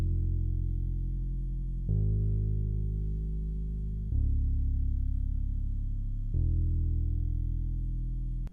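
A deep synth bass preset called Nature in Ableton Live plays sustained root notes, four long held tones with clean attacks and steady level, heavy in the low end and heard alone.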